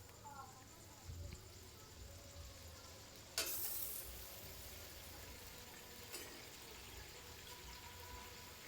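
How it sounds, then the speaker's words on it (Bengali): Fish curry gravy simmers in a pan with a soft, steady bubbling and faint sizzle, plus an occasional brief clatter, all quiet and close. "দেখুন ঝোলটা কিন্তু ফুটে উঠছে"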